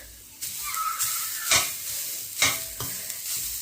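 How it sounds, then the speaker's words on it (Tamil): Grated coconut roasting in a pan over low heat sizzles softly as a spoon stirs and scrapes it in a few distinct strokes, close and clear with no voices. "இந்த தேங்காயம் இதே சட்டியில் போட்டு வறுத்தெடுப்போம்"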